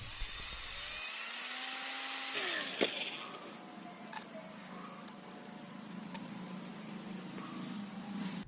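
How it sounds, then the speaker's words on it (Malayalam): A power drill bores a hole for a switch in PVC pipe while building a homemade grass cutter, whining steadily with a rising pitch then settling into a continuous grinding buzz, close and fairly loud throughout. "ഇനി നമ്മൾ സ്വിച്ച് ഫിറ്റ് ചെയ്യാൻ വേണ്ടിയിട്ടുള്ള ഒരു ഹോൾ ഡ്രിൽ ചെയ്യാണ്"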